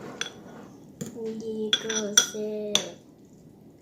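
A spoon mixing pastry colouring in a bowl for Jamaican gizzadas makes a string of close clinks and scrapes against the bowl, with bursts of ringing contact between quieter stretches.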